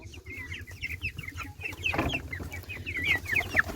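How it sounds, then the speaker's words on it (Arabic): Chickens and a rooster cluck steadily at close range, a busy mix of short calls and squawks over low farmyard rumble, with no talking. "ده ديك عشان ظهره محني احمر، ده ديك."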